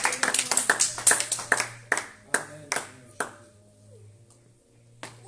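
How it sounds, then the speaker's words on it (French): Church congregation clapping in a fast burst of sharp, close hand claps that thins into a few scattered claps, with a low sustained organ-like tone underneath; no cheering voices stand out. "Est-ce qu'on peut acclamer pour l'éternel?"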